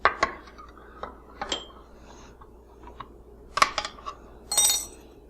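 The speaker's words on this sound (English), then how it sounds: "you're just going to stir it until the sugar dissolves" A spoon stirs pineapple juice and sugar into syrup in a pot on the stove, giving scattered metallic clinks and scrapes against the pot, sharp and close with quiet gaps between.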